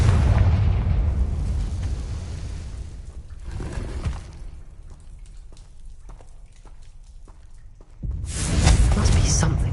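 The Confringo explosive spell cast in a video game: loud rumbling blasts at the start and again near the end, with a quieter stretch of scattered small pops between them.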